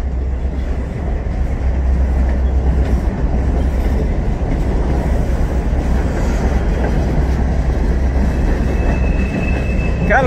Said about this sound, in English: That might be a coke train.